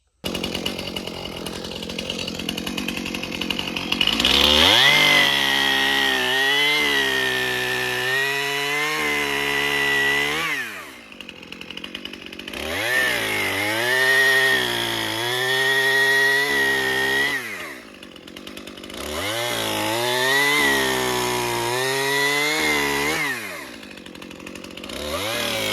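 A chainsaw cutting down hardwood trees for firewood, its engine loud and close, revving in long bursts of cutting with brief idle dips between them, running alone with no voices.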